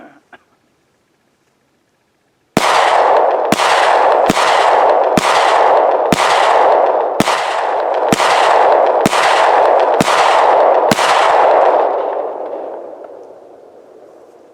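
A CZ 75 Compact pistol fires ten loud, sharp shots at a target from about 15 feet, spaced roughly a second apart, each with a short ringing tail, and the sound fades out after the last shot.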